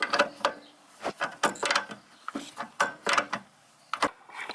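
Nut being tightened on an Ezigrip Enduro 2 bicycle rack mounted on a car towball, heard as repeated bursts of close mechanical clicking and ratcheting with brief gaps between strokes.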